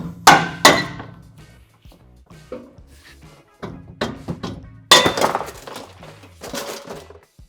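Metal knocks on a truck front bumper's crash bar as it is persuaded off its thread during a Dakar bumper install, giving several sharp clanking hits spaced irregularly, close and fairly loud with quiet gaps.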